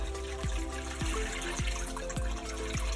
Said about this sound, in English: We're going to try to squeeze out as much water as we can here.